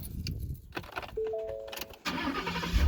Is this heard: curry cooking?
no